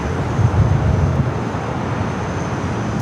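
A Lufthansa Boeing Dreamliner in 100-year livery, arriving from Frankfurt at LAX, gives a steady, low jet rumble that swells slightly early on and then holds even.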